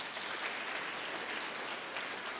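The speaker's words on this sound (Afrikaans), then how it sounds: "Gee vir hulle ook 'n lekker hande klap." Congregation at a church service clapping for the confirmation class children: steady, dense applause from a room full of people that lasts throughout, with no talk.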